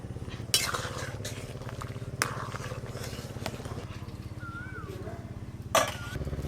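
Spoon scraping and clinking in a pot as hog plums are stirred and mashed into a simmering sour fish curry with mustard paste, several sharp metallic knocks over a low steady hum.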